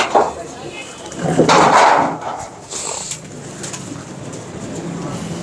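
Racing pigeons in a loft in Lahore give soft, low coos beneath people talking and a steady background rustle.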